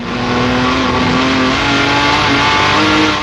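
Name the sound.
Jaguar D-type race car accelerating on track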